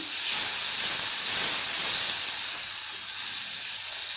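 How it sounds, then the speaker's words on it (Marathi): Tomato and masala sauté in a hot pan for Mangalore-style masala puri, giving a steady, close sizzling hiss that holds evenly throughout with no talking. "थोडंसं परतून घेऊया"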